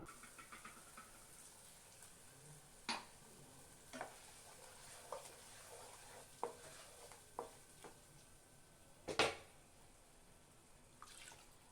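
A spoon scrapes and clinks intermittently while stirring masala in a pan for fish curry, quiet soft stirring sounds with occasional sharper knocks over a faint background hiss.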